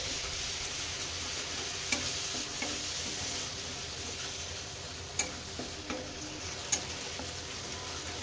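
Ginger garlic paste sizzles steadily in hot oil with chili and turmeric powder, with occasional sharp clicks of a spoon stirring the pan.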